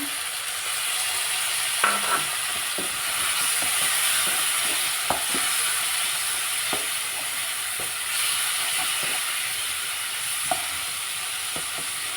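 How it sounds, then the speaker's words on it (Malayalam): A pickle cooks in a pan with a constant close hiss and sizzle, while faint clicks and small splashes come through as vinegar goes in. No one speaks. "ഇനി നമുക്കിതിലേക്ക് കുറച്ച് വിനാഗിരി സുറുക്ക് ഒഴിച്ചെടുക്കാം"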